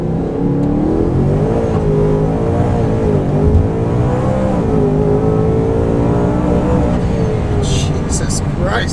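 A supercharged Ford Coyote V8 with a ProCharger P1X and a 10-speed transmission roars close and loud. Its revs climb and dip in steady waves as it pulls, with a faint high whir over the exhaust drone.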